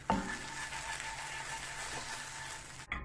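Potatoes and peppers fry in a pan with a steady, dense sizzle that holds at an even level throughout, then cuts off abruptly near the end.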